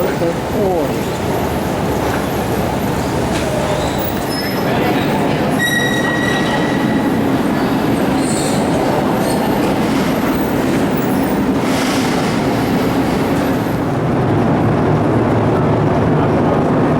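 A Lisbon metro train rumbles through a busy transfer station, its loud steady roar carrying wheel squeals and high whines, with crowd noise and voices mixed in throughout.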